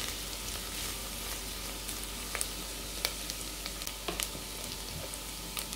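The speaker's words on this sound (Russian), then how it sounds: "Как же приятно пассируются лук и морковь." Onion and carrot sauté gently in a pan over the lowest heat, giving a soft, steady sizzle with scattered crackles and small pops, heard up close and alone.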